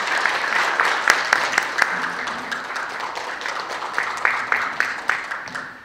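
Audience applause welcomes the Sejong city council chairman at an academic conference ceremony, a moderately sized crowd clapping steadily for several seconds with a few sharp, distinct claps standing out.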